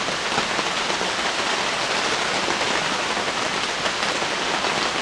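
Heavy wind-driven rain pours down at Black Lake, a dense steady roar of drops hammering surfaces, loud and unbroken throughout, with no voices.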